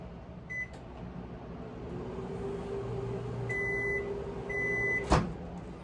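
A microwave oven running on high hums steadily at low volume, with a faint tone rising midway, a few short beeps and a sharp click near the end.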